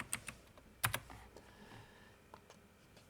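A folder name is typed on a computer keyboard, a few quiet, quick key clicks in short bursts with small pauses between them.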